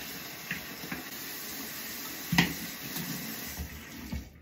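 Water runs steadily while a CPAP hose is rinsed out over a sink or shower, a continuous hissing stream with a few soft knocks and splashes from handling the hose.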